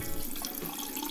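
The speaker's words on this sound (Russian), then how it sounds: "немного слил воды." Water is poured off from a container in which a small soap-scented stick is soaking, giving a steady, close splashing rush for about a second with no talking.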